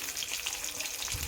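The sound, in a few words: frying rohu fish pieces in oil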